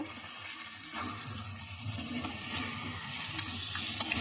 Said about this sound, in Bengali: হাতটা ধুয়ে নিচ্ছি, হাত না ধুয়ে পারি না, হাতটা ধুয়ে দিলাম